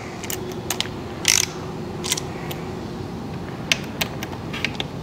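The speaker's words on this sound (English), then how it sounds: "torque wrench to give me a little leverage here" A torque wrench with a T45 bit loosens the lug nuts on a BMW R1200RTW motorcycle wheel, giving scattered sharp ratcheting clicks and mechanical clatter at close range, with no talk.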